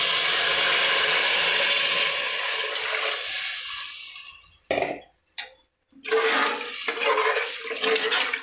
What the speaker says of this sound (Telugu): 4 గ్లాసులు నీళ్ళు పోసుకుంటున్నాను